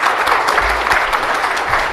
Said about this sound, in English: Big applause for Mr.